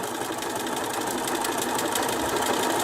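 A sewing machine runs steadily while stitching a circle on a coaster, a continuous close whirring hum with no pauses.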